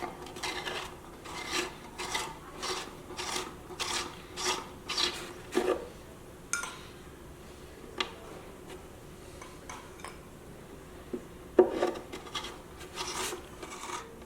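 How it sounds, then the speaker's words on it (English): Metal reamer rasping inside the end pin hole of a handmade violin, a series of short scraping strokes in steady rhythm, close and fairly quiet, with a few pauses and a couple of louder clicks. "So I'll widen this out with my reamer."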